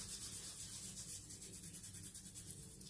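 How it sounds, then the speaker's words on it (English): Hands being rubbed together with an emulsified sugar scrub of coconut oil, olive oil and shea butter, giving a soft, steady, gritty rubbing in short repeated strokes, faint and close, with no voices. "And you're going to rub it into your skin."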